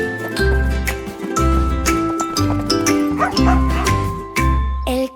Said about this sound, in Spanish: El cachorro de la policía ladraba en la calle.